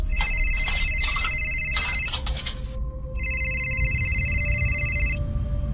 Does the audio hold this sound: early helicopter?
no